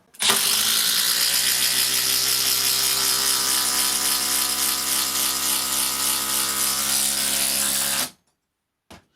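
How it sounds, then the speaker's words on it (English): A Milwaukee M12 impact driver sinks a 100mm batten into pine with one loud, continuous burst of rapid hammering that lasts about eight seconds, then stops abruptly, followed by a faint click. "Going to be driving 100mm battens into a pile of pine."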